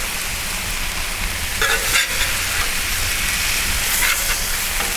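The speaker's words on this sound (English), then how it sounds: "Going to show these scallops some love, and let's give them a flip here." Scallops sizzle loudly on a hot Blackstone griddle, a dense steady close frying hiss with a few brief scraping bursts as they are turned, no voices.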